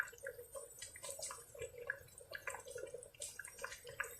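Water poured into a pot of Sri Lankan style mutton curry, a light splashing trickle with small drips, soft and close.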